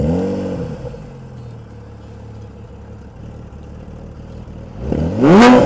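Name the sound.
Porsche GT3 engine starting and revving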